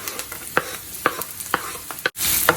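Garlic stirred and frying in a pan while a fresh lumpia filling is cooked: a steady soft sizzle with regular scraping strokes of the utensil, close and alone.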